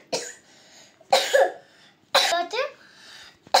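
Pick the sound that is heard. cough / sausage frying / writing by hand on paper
cough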